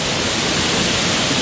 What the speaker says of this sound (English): happen upon this beautiful waterfall